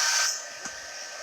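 A heat tool whirs steadily, loudest at the start, then holds a softer, constant blowing hiss while it melts embossing powder on a Valentine card with gilded leafing.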